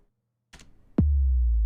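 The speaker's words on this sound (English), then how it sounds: "you have this sub drop, which comes from a Vengeance Essential Club 3 FX pack" Sub drop effect from the Vengeance Essential Club 3 FX pack: a short noisy burst, then a sharp downward pitch sweep that settles into a loud, sustained deep bass tone.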